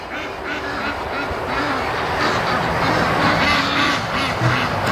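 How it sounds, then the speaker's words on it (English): Panicked ducks near a lake and creek on a property quack in rapid, overlapping bursts, a busy flock calling close by over a continuous rushing background noise. "Ducks are all panicked now."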